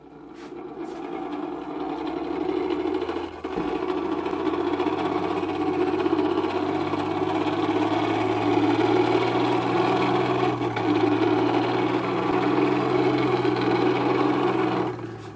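A Champion Blower and Forge Company blacksmith forge blower from Lancaster, PA runs steadily, giving off a continuous mechanical whir and hum with a faint rattle and a brief knock, heard alone at moderate volume.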